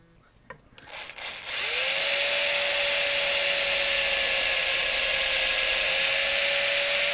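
A power drill bores into a guitar headstock for Kluson tuners, a few light knocks before the motor spins up into a loud, steady high-pitched whine that holds unbroken to the end.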